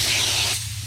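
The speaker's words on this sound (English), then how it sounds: "Okay, so test the spray." Raptor bed liner coating sprayed in the engine bay of a 1990 Jetta GLI: a steady, close, broadband spray hiss that drops off slightly near the end, with no talking.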